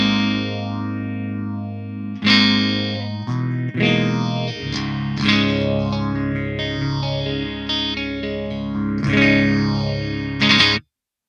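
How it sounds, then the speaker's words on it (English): An electric guitar plays through a phaser effect on a Quad Cortex, with sweeping, swirling tones over sustained chords and picked notes. It is loud and close, with no talking, and ends abruptly. "Let's go for the phaser right here."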